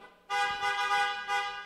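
A car horn honks at a Brazilian car auction, one loud, sustained nasal blare lasting over a second with a brief dip and swell partway through, close and clear.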